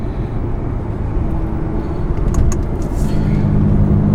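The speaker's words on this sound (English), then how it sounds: "That's a pretty good sounding exhaust." Porsche 911 Carrera 4S exhaust heard from inside while driving, a steady loud low engine drone that swells slightly as it pulls, with faint interior rattles.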